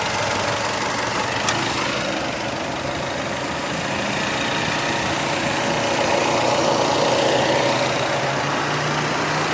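A 2014 Mazda MX-5 Miata Club Edition with a 2-liter 16-valve four-cylinder engine idling, a steady moderately loud hum with slight ticking texture and a faint rise in level toward the end, no voices.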